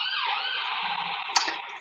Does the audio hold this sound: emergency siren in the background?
yes